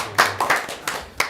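A few separate claps, roughly four or five sharp hand claps spaced unevenly, at a school board meeting, close by and fairly loud with no talk.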